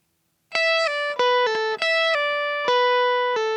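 A short run of sustained, bright guitar notes, played an octave higher, with slides and bends between pitches, played alone with no talking.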